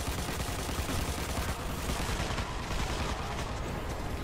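A heavy weapon fires continuously in Destiny: Rise of Iron, a dense roaring barrage of overlapping blasts. It stays loud and sustained throughout, with no talk.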